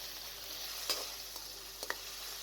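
Minced meat fries with onions in a pan, a faint, even sizzle broken by a few soft clicks and taps of stirring, with no voices.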